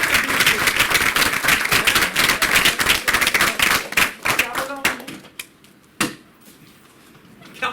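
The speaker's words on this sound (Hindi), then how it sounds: "एक तालियां बजनी चाहिए।" Brisk clapping from a soft-skills workshop audience, sharp close hand claps in a dense burst that thins into a few scattered claps and falls quiet by the end.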